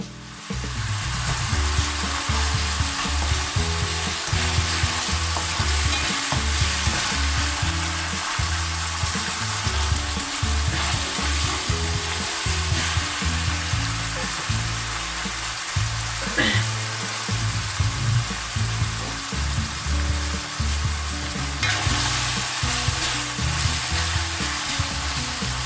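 Lamb samosa filling with ginger garlic paste fries in a pan, a continuous close sizzle with steady scraping and stirring throughout, no talking.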